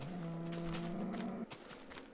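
A cow in the Minecraft video game gives a low, drawn-out moo lasting over a second, fairly faint, followed by quieter game ambience.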